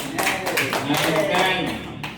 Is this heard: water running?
no